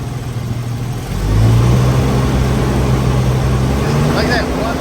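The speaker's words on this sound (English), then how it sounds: "Give it a little rev." A Jeep engine with a newly fitted alternator revs up from idle to a higher steady pitch and holds there, close and fairly loud, with a brief voice near the end.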